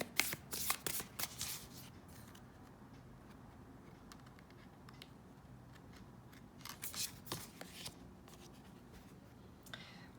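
Tarot cards shuffled by hand, close and quiet, with bursts of riffling and flicking at the start and again midway, separated by softer handling sounds.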